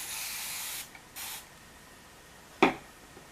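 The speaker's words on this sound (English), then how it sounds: "so then I'm going to spray" A spray bottle is pumped three times nearby onto natural hair, two longer hissing bursts and then a short sharp spritz, with quiet pauses between.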